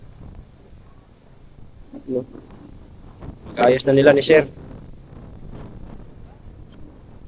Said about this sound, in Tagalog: Bagyo na talaga, lakas ang hangin.